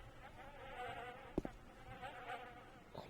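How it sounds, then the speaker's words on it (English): Flies buzz around rotting garbage inside an abandoned lunatic asylum in a video game, a faint steady droning hum with a couple of brief soft knocks midway. "Alright, those are flies, not bees."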